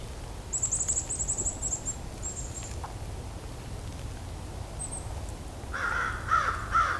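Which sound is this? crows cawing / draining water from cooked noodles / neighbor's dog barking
crows cawing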